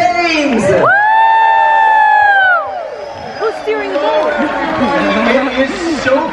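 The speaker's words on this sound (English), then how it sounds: "let's welcome to the stage with a huge round of applause, the master of the vessel" An audience in a theater aboard the Royal Caribbean cruise ship Navigator of the Seas cheers loudly, with a long close whoop over crowd shouting and chatter.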